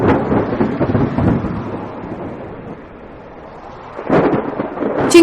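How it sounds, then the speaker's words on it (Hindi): Steady rain with low rumbling thunder that swells, fades, then rolls in again loudly. "उनके लिए यह पहली बारिश थी जो उन्हें किसी अजूबे से कम नहीं लग रही थी"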